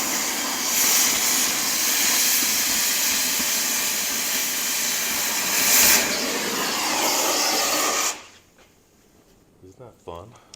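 A cutting torch heats a thick steel clutch pedal from a cab-over truck, a loud steady roaring hiss held for several seconds before it stops abruptly, followed by quiet shuffling and faint handling noises.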